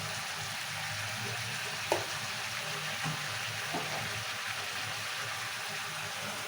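Tomatoes and green chillies simmer with salt in a pan, producing a constant close frying hiss with a few faint clicks of a spoon, no voices.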